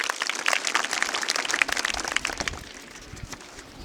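An audience at a Shivaji Jayanti quiz event gives a burst of clapping that fades after a couple of seconds, leaving a quieter room.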